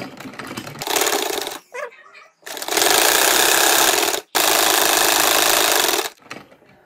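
A sewing machine stitches a blouse back neck in loud, steady whirring runs of about one and two seconds. Short pauses and faint handling noises fall between the runs.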